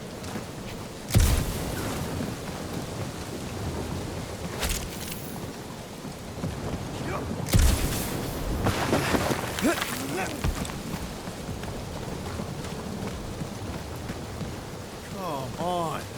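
Steady rain and rolling thunder in the video game Marvel's Guardians of the Galaxy, with two sharp, loud thunder cracks over a constant hiss of rainfall, and a voice speaking briefly underneath.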